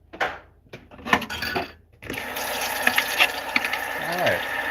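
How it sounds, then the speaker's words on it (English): Tap water runs steadily into a sink while a pan is washed at home, a continuous broadband rush with faint clinks of cookware, starting after a few seconds of quieter handling noises and brief talk. "Water is just always loud."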